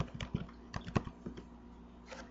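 Close, quick typing on a computer keyboard, a short burst of uneven key clicks with a louder keystroke near the middle and a final tap, no voices.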